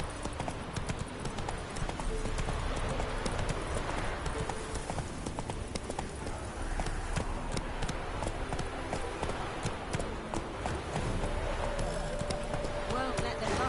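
A horse gallops in The Witcher 3, its hooves drumming rapidly and close for the whole stretch, with voices talking over the pounding rhythm.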